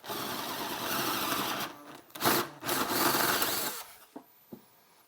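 A large drill bit bores through a pilot hole in a metal chassis for a tube phono preamp, giving a sustained grinding whir that dips and surges with pauses, ending in a few short taps.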